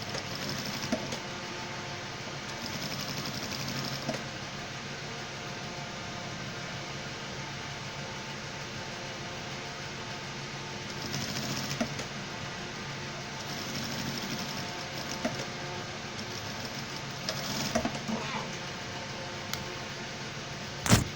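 Sewing machine stitching the leg of a formal pant, a continuous steady mechanical whir held for a long stretch with small swells in intensity and a sharp click at the end.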